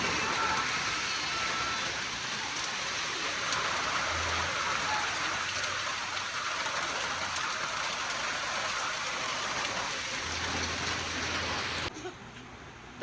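Steady rain pours down in a dense, even hiss that holds for about twelve seconds before it drops off abruptly; a faint low engine-like hum drifts in briefly underneath.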